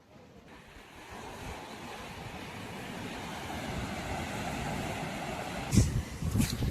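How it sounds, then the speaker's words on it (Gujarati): Sea waves at full high tide roll in a steady broad wash of surf beneath a temple by the shore, with wind buffeting the microphone and a couple of louder gusts near the end. "તો આવી રીતના ફૂલ દરિયો ભરાઈ ગયેલો છે."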